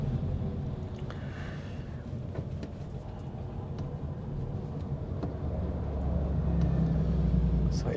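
A small 2024 GWM Ora Extended Range electric car drives along a freeway under construction for widening, giving a steady low road rumble and tyre noise that swells slightly louder toward the end, with no voices.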